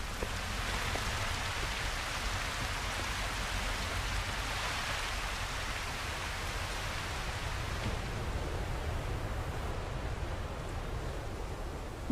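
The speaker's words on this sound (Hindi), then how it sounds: "टेक्सास में जब भी बारिश होती है मूसलाधार ही होती है।" A heavy downpour of rain in Texas, a dense and steady hiss of falling water that continues unbroken and evenly loud throughout.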